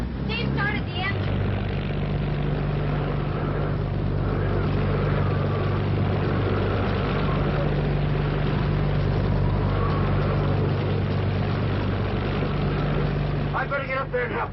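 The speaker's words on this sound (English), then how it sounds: "started the engine" A boat engine runs steadily throughout, a loud continuous droning hum that holds without pause while voices talk over it.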